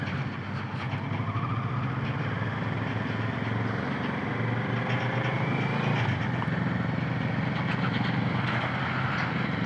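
A Kawasaki Z650 motorcycle engine runs quietly and steadily, a low continuous hum with faint road and wind noise throughout, no voices.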